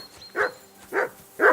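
A dog in the video game Kingdom Come Deliverance II gives three spaced, mid-loud barks, each a short single woof with no talk over them.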